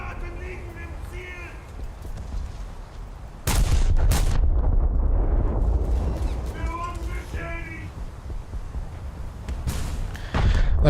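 Naval shell fire from a warship video game, with sudden loud gun blasts near the start and end and a rumbling burst of fire in between, under continuous talk.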